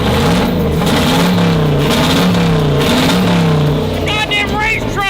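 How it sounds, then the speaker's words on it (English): Engine of a school bus converted into a race truck, idling then rising in revs, loud and close with a steady low rumble and talk over it. "Look how good it idles."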